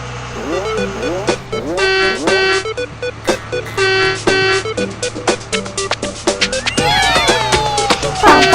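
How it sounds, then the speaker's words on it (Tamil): A school bus horn honks in a cheerful, rhythmic pattern of repeated short toots in a Tamil children's song, loud and close, with bright musical tones after the honks. "பஸ் வந்ததே, ஹார்ன் சத்தம் கேட்குதே"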